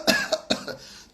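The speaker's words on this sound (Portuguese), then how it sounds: "Ele vai estar lá tossindo a fim de desobstruir a via aérea dele." Several hard, forceful coughs from a person, delivered in a quick irregular burst of about four close, loud hacks that trail off, with no talking.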